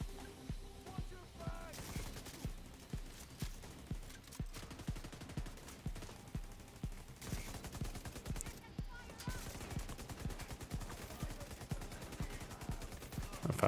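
Turrets firing in the video game The Division 2, steady rhythmic bursts of automatic gunfire repeating at a regular pace, fairly quiet and continuous, with faint game sounds behind.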